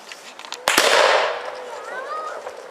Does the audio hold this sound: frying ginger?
no